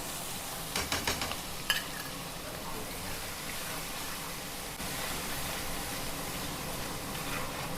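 Fifty grams of chopped ginger and four chopped green chillies drop into a hot oil tempering for kadhi. A few clinks of the utensil come early, then a steady, close sizzle hisses on without talk.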